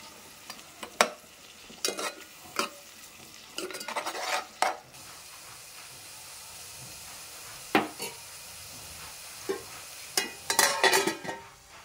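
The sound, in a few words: frying onion green chilli paste with tomatoes for chicken biryani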